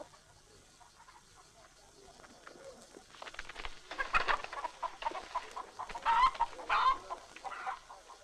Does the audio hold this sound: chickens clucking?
yes